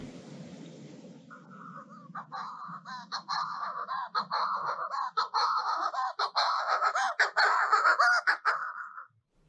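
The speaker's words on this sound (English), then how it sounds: "So this is a Manx shearwater" A Manx shearwater calling at a possible breeding site in Ireland gives loud, raucous, rhythmic cackling calls repeated in rapid bursts. The calls grow stronger and more insistent over several seconds, close to the recorder and alone, then stop abruptly.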